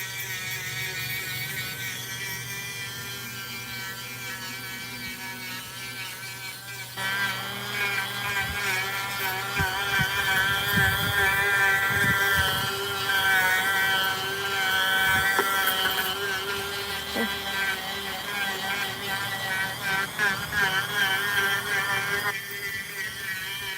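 A Dremel rotary tool carves in close up with a continuous high whir. The whir grows louder and wavers in pitch as the bit bites in, then eases back near the end.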